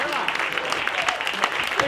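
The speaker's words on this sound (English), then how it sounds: "I think that is worth a big round of applause" Wedding guests at Long Barn in the UK give a short burst of applause for the groom Oli during a speech, the clapping moderate and crowd-like, with voices mixed in.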